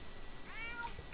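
Pet cat giving a single short, rising meow up close indoors, clear and fairly soft against a quiet room background.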